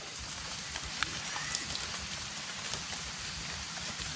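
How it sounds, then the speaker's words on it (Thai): Steady rain falling outdoors in a mushroom-foraging area, a dense continuous hiss with scattered drop taps, fairly faint and alone with no talk. "ฝน"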